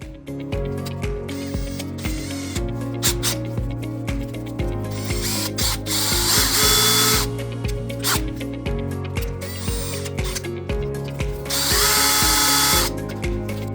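A power drill whirs and grinds steadily while enlarging a tight hole to fit a short shifter pin on a BMW E39. Two louder, harsher bursts of cutting stand out along the way.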